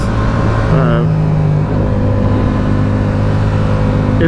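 A Yamaha R7 motorcycle engine runs loud and steady at close range, holding a constant droning hum the whole time.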